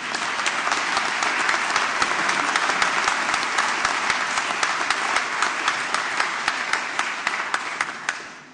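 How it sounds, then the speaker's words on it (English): A graduation ceremony audience for a School of Law gives sustained applause, a dense, steady wash of many hands clapping that carries on evenly for several seconds before tapering off at the end. "let's give her a round of applause"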